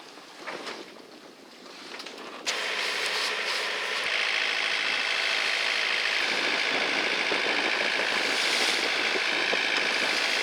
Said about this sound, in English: we're gonna start the engine to keep some speed and keep the cap we want